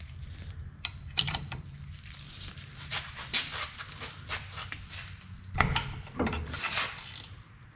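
A hand ratchet turns out the last bolt on a Ford Explorer driveshaft during rear differential service, giving a steady run of close, clicking pawl ticks with a few louder knocks of metal.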